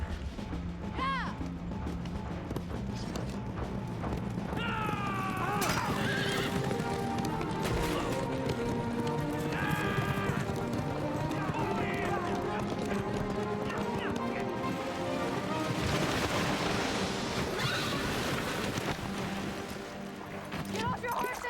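Horses gallop in a dramatic period battle scene near a river, with dense, fast clip-clopping hooves, occasional neighs and whinnies, clanking gear and shouting voices mixed throughout.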